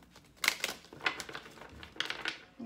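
Tarot cards being shuffled by hand, a quick series of crisp riffling and flapping bursts of card stock, fairly close and moderately quiet, with no talking.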